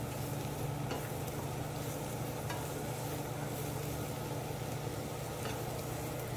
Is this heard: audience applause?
no